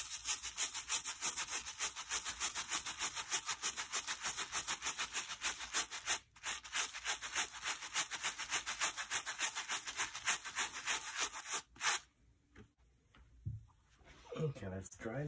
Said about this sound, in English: These came with these nylon brush, so let's use the brush that came with it.